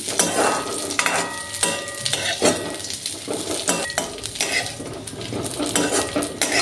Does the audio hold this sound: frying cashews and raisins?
yes